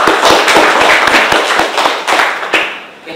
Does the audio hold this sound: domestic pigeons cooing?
no